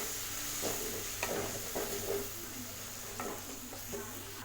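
Tomato sautéing with herbs and green chilli in a pan, a steady sizzle broken by several stirring scrapes and spatula taps at an irregular pace, close up.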